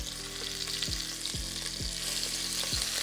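Beef short ribs sear in a hot pan, a loud steady sizzle filling the whole stretch, with a few low thumps as pieces are moved or set down; no voices.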